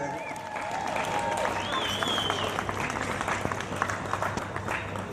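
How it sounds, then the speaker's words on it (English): Crowd applause at a live poetry concert rings out for Tori, a woman being honored on stage, with steady dense clapping mixed with cheers and crowd noise throughout. "Tori, give her a nice round of applause."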